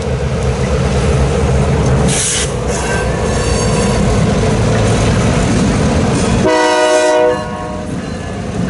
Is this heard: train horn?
yes